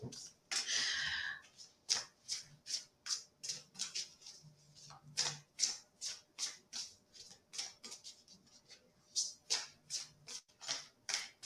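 Oracle cards shuffled by hand at close range, a long train of brisk, evenly spaced flicks and riffles after a brief opening burst, with faint low murmuring now and then beneath.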